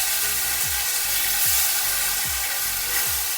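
Tomatoes dropped into hot oil already tempered with bay leaf and dried red chilli for a Bengali drumstick curry: a steady, loud sizzle with a repeating low scraping stir roughly every three-quarters of a second, and no voices.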